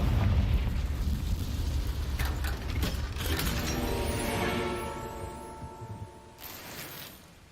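A Confringo blasting spell in the Hogwarts Legacy video game erupts in a loud booming explosion with crackling bursts, then rumbles and fades over several seconds without any talking.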